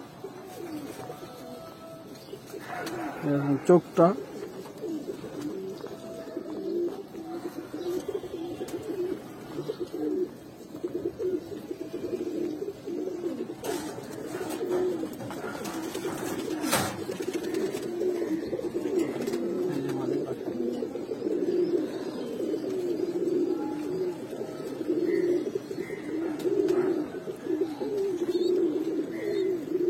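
A pair of brown-necked (khoyra gola) pigeons, including a big male, coo steadily and continuously up close, with occasional handling noises and brief speech over the cooing.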